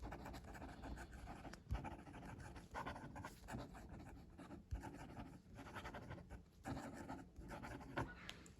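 Kanwrite Heritage fountain pen nib moving quickly across paper, a continuous close scratchy writing sound with small pauses and pen lifts between strokes, no talking.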